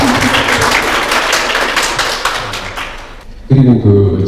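Audience clapping at a fan meeting in Astana, a dense, loud round of applause lasting several seconds that fades before talking begins.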